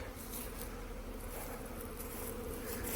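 Honeybees fly around their hive during a spring cleansing flight, a dense continuous buzzing hum from many insects close by, steady and fairly loud throughout, with no voices.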